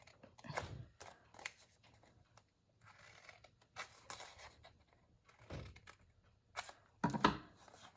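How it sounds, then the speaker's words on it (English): Scissors snipping card paper along square lines for a pop-up card, quiet close-up cuts in short irregular bursts with pauses between, ending in one sharper, brighter snip. "I am going to cut on these square lines"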